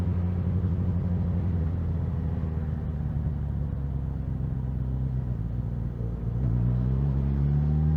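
A 2020 Suzuki GSX-S1000 motorcycle engine rumbles steadily while riding slowly over bumpy roads, a continuous low drone with a slight lift as the throttle opens near the end, close and with no talking.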